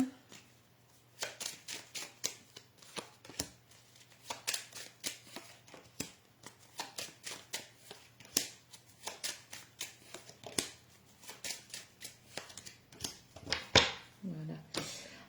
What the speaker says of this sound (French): je vais rajouter quelques petites cartes.